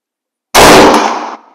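A US military surplus 03-A3 bolt-action rifle fires a single soft point hunting round after silence, one very loud sharp blast with a short decaying ring.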